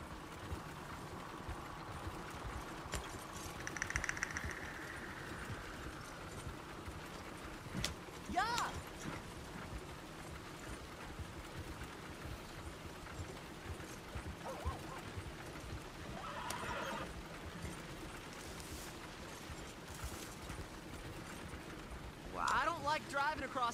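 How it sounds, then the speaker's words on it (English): Hoofbeats and a short whinny from a horse pulling along a road in the video game Red Dead Redemption 2, faint and intermittent beneath ongoing conversation. "I think the horse is getting skittish."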